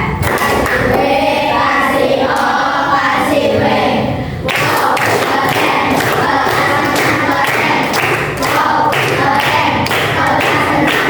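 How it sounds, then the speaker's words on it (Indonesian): A group of students in a classroom coding lesson claps hands together in a loud patterned cheer, sharp rhythmic claps and thumps repeating near the listener, with a brief pause midway and some voices mixed in. "Tepuk."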